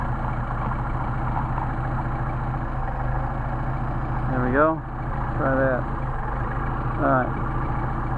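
Mercedes 190SL engine with Solex carburetors idling steadily with throttle closed, a constant low rumble throughout while someone speaks briefly over it.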